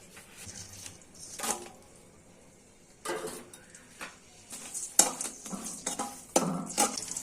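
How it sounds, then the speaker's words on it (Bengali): Soybean oil sizzles and crackles in a hot pan as chillies fry, with intermittent bursts of spattering and a few clinks of a metal spoon against the pan. "কড়াইটা গরম হয়েছে, আমি সয়াবিন তেল একটু ঢেলে দিচ্ছি, মরিচ গুলা বেজে নিব।"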